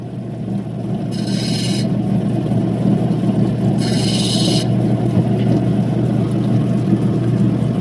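A Coober Pedy opal is rubbed to clear off sand, giving two short, close rasping scrapes over a loud, steady motor hum, with no talking.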